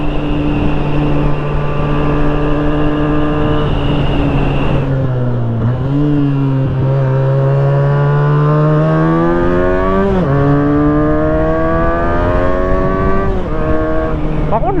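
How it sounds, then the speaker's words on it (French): A 2015 Benelli BN302 300 cc motorcycle engine revs high and hard, its pitch sweeping up with each gear, dropping sharply at two shifts and climbing again, loud and close to the rider. "Par contre le moteur lui franchement après 8000 ça gueule un peu"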